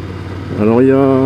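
An older Ducati Scrambler 800 Icon motorcycle engine idles low, then revs up sharply in a short, close burst of rising engine tone.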